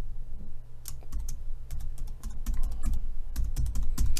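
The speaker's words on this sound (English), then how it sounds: "I'm going to type in my stuff that I set up" Login details being typed on a computer keyboard: rapid, close, fairly loud key clicks in irregular bursts over a faint room hum, with no talk.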